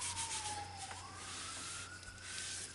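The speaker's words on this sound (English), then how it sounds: "Pardon the sirens." A distant emergency siren wails, its pitch sliding slowly up and down over a quiet background hum.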